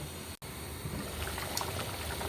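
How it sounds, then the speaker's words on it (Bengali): Potato broth boils in a pot, a soft continuous bubbling and watery burble with small pops, faint and close, briefly cut by a short dropout near the start. "দেখতেই পাচ্ছেন বলক উঠে গিয়েছে"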